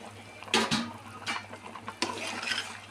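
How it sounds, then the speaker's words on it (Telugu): Water bubbling in a pot on the stove, heating for chicken biryani rice, with a few clanks of a utensil against the pot over the steady simmer. "ఎసురు మరుగుతుంది బాగా"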